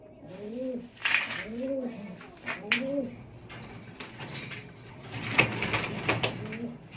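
A racing pigeon hen coos close by in a series of soft, rolling calls repeating at a steady pace, with quiet talk and light handling noise behind.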